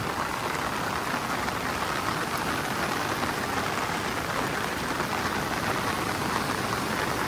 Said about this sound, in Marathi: कोकणामध्ये जोरदार पाऊस पडत आहे